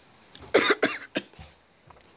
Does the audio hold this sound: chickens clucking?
no